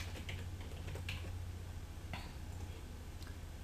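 Keys clacking as text is typed on a computer keyboard in a quiet room with a steady low hum, a few scattered taps and small bursts rather than continuous typing.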